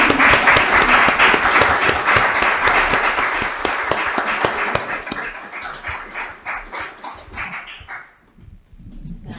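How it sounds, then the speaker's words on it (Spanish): Dense applause from the audience at a live presentation event for women, loud and sustained for several seconds before thinning out and fading near the end. "un aplauso para todos"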